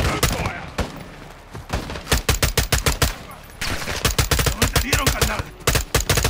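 Automatic gunfire in Call of Duty: Modern Warfare 2, loud close rapid bursts of shots in several rhythmic volleys, with brief shouted voices between them.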